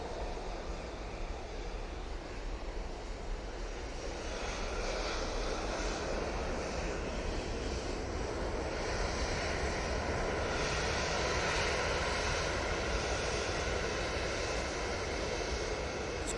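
easyJet jet airliner climbing away from Manchester Airport bound for Ljubljana, a fairly faint, sustained engine roar that stays even across the whole stretch, alone without voices.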